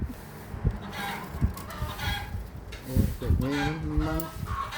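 Hens cluck and cackle close by, a steady run of clucks rising into a louder drawn-out cackle, with faint background noise.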